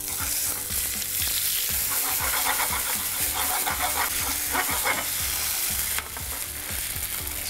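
A spatula scrapes and stirs about a tablespoon of onion, ginger and garlic paste frying in a pan, loud close sizzling with rhythmic rattling strokes that continue throughout.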